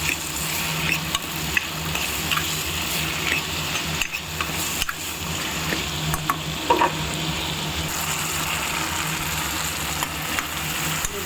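Broad bean curry with turmeric fries in a pan, giving a steady, loud sizzle with occasional stirring scrapes throughout.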